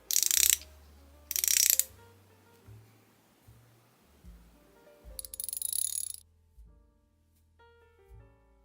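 A hand ratchet with a brushed metal matte finish clicks in a few quick bursts, then is switched between forward and reverse with small mechanical snaps, close and clear with no talking.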